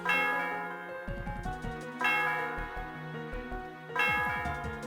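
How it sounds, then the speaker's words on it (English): A bell rings in the video game Pokémon White 2, three bright chiming strikes about two seconds apart, each with a rolling low tone and a sustained ringing tail, clear and alone with no talk. "Yes, ring the bell."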